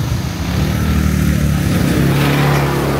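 A lorry rolls past on a rural road beside an ATV, its low engine rumble steady and loud throughout, with broadband road noise layered over the drone.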